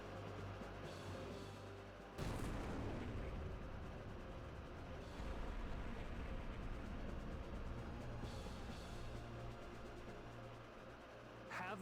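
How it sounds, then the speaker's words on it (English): The Heaven's Gate orbital laser cannon fires in the Robot Alchemic Drive video game, a dense, roaring blast that surges suddenly and rumbles on steadily at length, like heavy artillery, with a voice speaking under it. "Have a taste of the Heaven's Gate orbital laser cannon, courtesy of Masaki and Bullnose."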